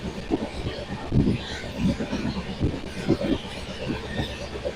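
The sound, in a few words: Ala Hazrat Express passenger train running at full speed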